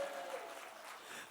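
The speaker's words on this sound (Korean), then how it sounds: "우리 두 손 들고 하나님께 영광의 박수를 드립시다" Church congregation at an evening summer revival service clapping together in sustained, even applause, fairly far and soft, with a faint voice over it at the start.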